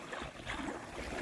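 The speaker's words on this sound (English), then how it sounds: "I just love the sounds of the waves" Waves on Lake Champlain in Vermont wash steadily against the shore on a mild June day, a continuous broad rush mixed with wind noise, with no voices.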